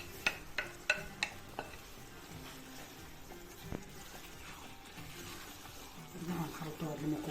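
Pre-cooked kofta meatballs dropped into a pan of sautéed peppers for lasagna, giving a soft sizzle with a few sharp clacks of a utensil early on, then quiet stirring and frying noise that swells slightly near the end.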